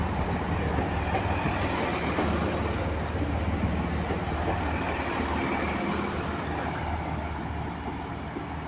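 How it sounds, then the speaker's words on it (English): A turbo train passes through a Stepford County Railway station with a loud, steady rumble and rolling clatter that holds for the whole stretch, with no talking. "Still not my train"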